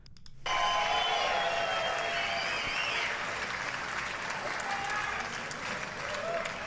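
Sustained applause from a large audience at the State of the Union for a hockey team, breaking out after a brief quiet start and holding steady and dense to the end, with crowd murmur mixed in.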